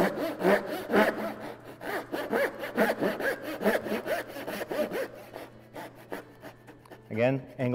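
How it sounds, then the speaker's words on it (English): Hand saw cutting angled dovetails in a wooden box piece, a series of quick rhythmic rasping strokes, close and steady, mixed with faint breathing throughout. "I'm going to cut all of my left angled cuts and then all of my right."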